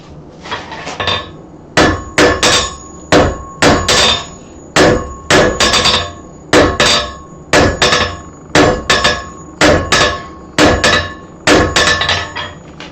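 Hot metal is hammered on an anvil at a blacksmith's forge in close, loud bursts of rapid ringing blows, with short pauses between each flurry.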